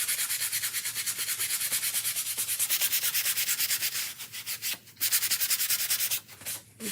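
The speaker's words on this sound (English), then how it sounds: "we're going to kind of give it a quick buffing" A cloth buffs wax onto a small painted wooden house in quick, rhythmic back-and-forth rubbing strokes, close and steady, with a few brief pauses near the end.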